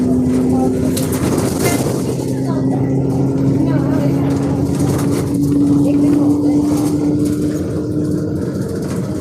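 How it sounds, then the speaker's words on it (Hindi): Haryana Roadways bus engine droning steadily from inside the moving bus near Charkhi Dadri, a continuous low hum with road rumble under it throughout, fairly loud, while people talk over it. "इंजन की आवाज है आवे है कि थोड़ी बहुत ही इंजन की आवाज।"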